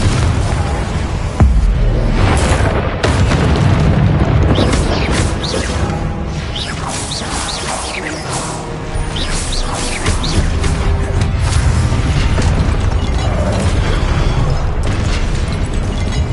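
Loud, dense spell explosions and crashing booms from Hogwarts Legacy combat on PS5 go on nearly without a break, with impacts layered over rumbling effects.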